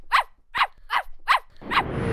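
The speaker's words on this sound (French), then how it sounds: "le chien s'est mis à aboyer" A dog barks five times in a steady, evenly spaced series, loud and close, the last bark overlapping a burst of broadband noise, with no talking.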